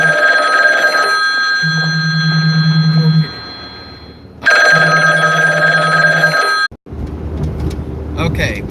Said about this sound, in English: video was interrupted because of a phone call with another customer